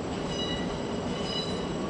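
A British Rail Class 455 electric train from Guildford rolls through London Waterloo station with a loud, steady rumble and a faint high metallic whine from the wheels. No voices are heard.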